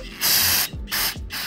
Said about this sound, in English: I'm gonna spray everything down with just a little bit of brake parts cleaner